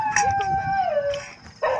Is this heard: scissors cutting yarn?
no